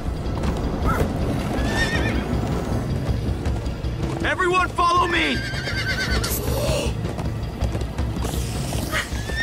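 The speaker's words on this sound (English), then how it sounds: "Come on, horses!" Horses whinny and neigh loudly over a rhythmic clip-clop of galloping hooves in the Minecraft Story Mode video game, with characters talking over the commotion and some mechanical clatter.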